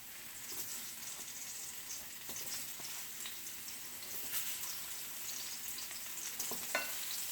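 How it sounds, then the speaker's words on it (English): Mushrooms sizzle in hot olive oil in a frying pan, a quiet, steady crackling with occasional sharper pops and stirring sounds, heard close and alone. "This is mushrooms, frying them."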